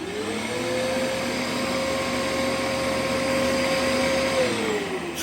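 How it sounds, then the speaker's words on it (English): A Bissell vacuum cleaner runs loud and steady during a suction test, a constant motor whine with a sustained tone that dips slightly in pitch near the end. "See how much suction the Bissell vacuum has got."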